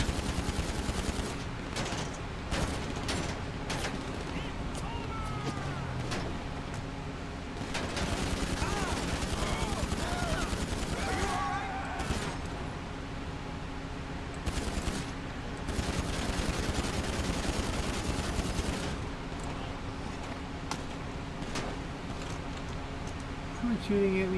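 Video game gunfire among trees, repeated bursts and volleys of shots continuing throughout at moderate loudness, with speech occasionally underneath.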